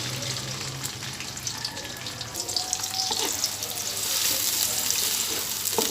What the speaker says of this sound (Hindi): तो प्याज को हम ब्राउन होने तक यानी अच्छा सा सुनहरा कलर होने तक फ्राई करेंगे अब हम।